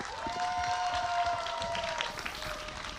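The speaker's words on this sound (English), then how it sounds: "Applause for Envy as they find themselves on another match point" Arena crowd applause at a VCT Americas Valorant esports match between Envy and Furia: a dense, moderately distant wash of clapping and cheering with a sustained tonal voice-like sound running over it.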